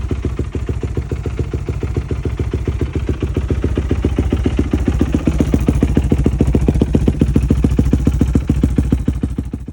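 A motorbike engine, freshly restarted and its valves not yet adjusted, idles loud and close with a fast, even putter and a slight mechanical clatter, holding steady throughout.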